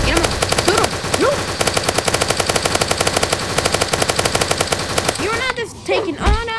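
Rapid, evenly spaced machine-gun fire from a Roblox Zombie Rush game clatters loudly for about five seconds, then stops as excited voices call out and talk takes over.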